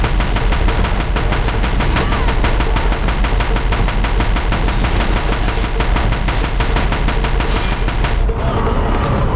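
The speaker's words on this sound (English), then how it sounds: "Got a couple Deathbringer guns down here now." Deathbringer gun turrets blaze away in the video game Horizon Zero Dawn: loud, rapid, evenly spaced machine-gun fire that runs almost without pause for nine seconds before cutting out near the end.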